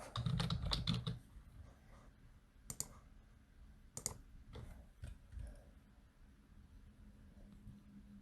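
Sharp computer clicks come in a few scattered bursts, a quick cluster at the start and then single faint clicks spaced apart, close and quiet over near silence.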